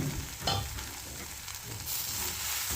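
Green beans fried with garlic sizzle steadily in a pan, a continuous close hiss with a brief stirring scrape, no voices.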